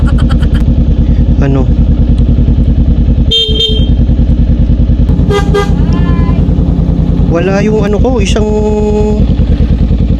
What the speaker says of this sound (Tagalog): Pangit ng busina ko, no? Mahina na rin kasi yung battery nito